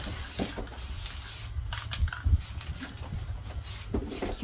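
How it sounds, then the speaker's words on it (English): Light spray paint misted onto a stencil taped over the front of a cabinet, a soft continuous hiss with a few brief louder puffs, close by and steady throughout. "It's just light spraying."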